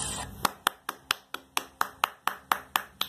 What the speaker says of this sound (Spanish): Bravo, aplauso para ellos.